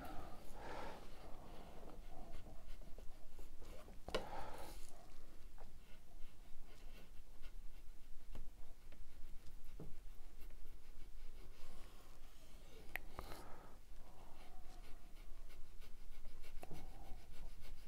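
A Russian Bulat steel Sudak knife slices through paper in a few faint, scratchy strokes spaced across a quiet stretch, with soft rustling between cuts.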